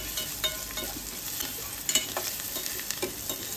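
Ground green masala paste stirred into softened, browning onions in a hot pan, with steady close sizzling and frying under repeated scraping stirs of a spoon, no talk.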